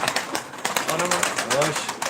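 Pigeons coo in soft, low, throaty bursts among a flock of about fifty newly bought birds, fairly close, with people talking over them.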